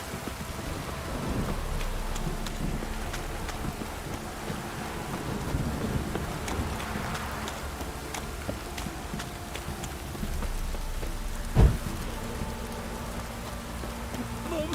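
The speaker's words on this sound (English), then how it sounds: "This downpour's a bastard, in it." Steady heavy rain pours in the video game The Witcher 3, a dense wash of hiss with a low rumble beneath and a brief sharp knock near the end.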